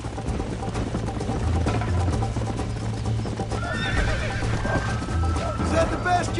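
Horses neighing and hooves clip-clopping in the Western video game Red Dead Redemption, a shrill whinny rising midway over galloping, with game ambience rumbling underneath.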